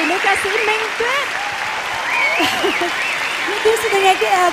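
A live concert audience applauds in a dense, steady wash of clapping while someone speaks over it through a microphone.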